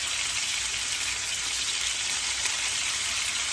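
Meat sizzles in a hot pan with a steady, dense hiss that does not let up throughout.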